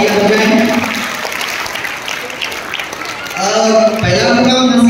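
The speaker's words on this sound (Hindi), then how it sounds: "उनके लिए जोरदार तालियां हो जाए" An audience at a school results ceremony for recitation, naat and drama contests claps briefly in the middle, the applause rising and falling between stretches of an announcer speaking.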